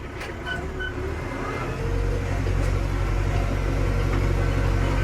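A tractor pulls a rotovator across a bumpy, uneven field being prepared for potatoes, its engine a steady low drone that grows louder and heavier after the first couple of seconds and stays continuous to the end.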